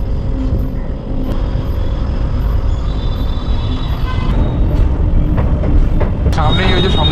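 A Kumbh special train crossing the New Yamuna Bridge at Prayagraj, heard from on board as a loud rumbling rattle with clanking wheels over the span, with people talking over it.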